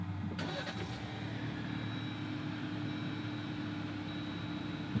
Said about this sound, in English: to start it up, you just have to have the key inside the vehicle, hold the brake, and press this button to start it up